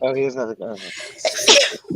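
A single sharp sneeze bursts out amid a family's casual conversation, brief and close, following a few spoken words.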